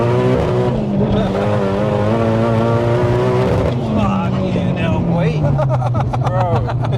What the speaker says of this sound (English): So you're like revving it before you dump the clutch?